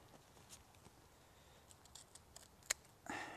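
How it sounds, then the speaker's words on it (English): Scissors snipping through a celery stalk at the root in a vegetable garden, a faint crisp snip with a few soft ticks and rustles around it. "So I'm just going to cut it off here."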